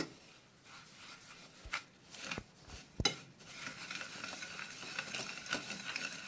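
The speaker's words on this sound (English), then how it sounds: "Now I'm going to use a whisk to mix this together until it's nice and creamy." Softened butter and sugar are whisked by hand in a bowl, giving quiet, close scraping and a few sharp clinks of the whisk against the bowl.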